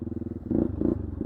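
An old Yamaha Warrior 350 ATV with a new clutch, left sitting for a year, idles close by with a rapid, even thumping putter, its low throb rising briefly in a few small surges.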